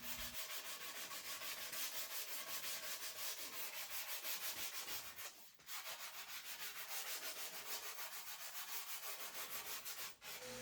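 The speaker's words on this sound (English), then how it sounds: "gave it a really good sanding, scuff sanding on the top just to smooth out this old finish" Steady rhythmic sanding strokes rasp back and forth across the old finish on a cedar wood blanket box, close and continuous, with a brief pause midway and no talking.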